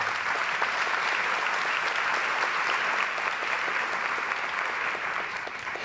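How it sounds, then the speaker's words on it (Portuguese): A church congregation applauding during an evening service, a steady wash of many hands clapping continuously, loud and uniform throughout with no talk over it. "Pode aplaudir ao Senhor."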